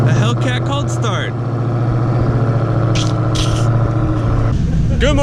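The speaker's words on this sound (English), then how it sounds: "A Hellcat cold start." A Dodge Hellcat V8 idles loudly up close after a cold start, a steady deep rumble with a brief dip in the first seconds, with people talking over it.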